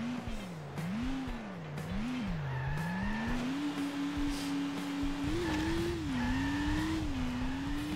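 The Wedge vehicle in Turbo Dismount drives with a humming engine whose pitch wavers up and down as it accelerates and eases off. Tire noise and occasional squeals come through close and steady.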